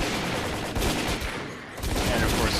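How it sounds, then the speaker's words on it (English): A sniper rifle fired from the hip in STALKER Call of Pripyat, with dense bursts of gunfire and game battle noise that are loud and continuous and dip briefly in the middle. "sniper rifle's hip fire is actually pretty accurate"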